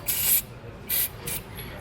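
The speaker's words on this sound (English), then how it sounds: "So there's a lot of corrosion buildup in here, so I'm going to just take a little bit of penetrating oil" Three short hissing bursts of aerosol penetrating oil sprayed onto corroded curved equalizer hardware for a trailer's double-eye leaf springs, close and fairly loud, the first two longer and the last brief.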